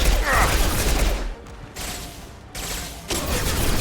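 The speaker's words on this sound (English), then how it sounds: "Firing an impact shot!" An impact shot fires in the video game Mass Effect 2 amid dense, crackling bursts of gunfire that drop briefly around the middle and then return, loud and close, with no talk.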